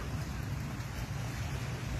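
Sea waves and wind at Bang Saen beach, a steady broadband roar of surf with gusty wind buffeting the microphone.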